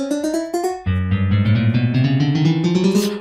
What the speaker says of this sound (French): Et c'est avec la guitare c'est avec un bloc de laine.